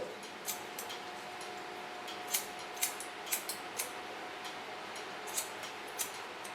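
Scissors snip through dry curly hair during a bob cut: sharp, close metallic clicks at irregular intervals over a quiet room.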